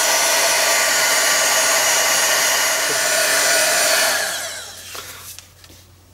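A handheld dryer blows a steady loud whoosh over a junk journal craft piece for about four seconds, then switches off and winds down, leaving a few small clicks and handling noises.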